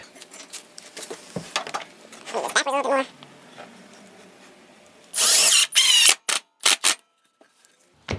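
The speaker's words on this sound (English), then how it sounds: "I'm going to put a screw in here." A power drill drives a screw into the corner of a wooden box joint sled, with two or three loud close whirring bursts after quieter handling knocks and some scraping.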